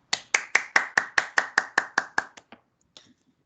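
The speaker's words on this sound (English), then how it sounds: "let's give Team 1 a big round of applause" A small group applauding to honour a team in a class, about eleven evenly spaced, crisp claps that fade out, followed by a couple of stray claps and then quiet.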